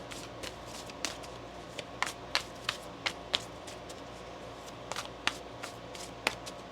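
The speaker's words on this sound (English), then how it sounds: "One more shuffle here." Tarot cards being shuffled by hand at close range, a series of crisp, sharp riffling snaps in irregular bursts over a soft, quiet background.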